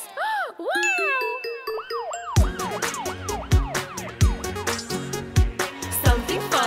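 Police car siren tones in a kids' song sweep up and down repeatedly, then continue over a bouncy rhythmic beat with bright tinkling accents.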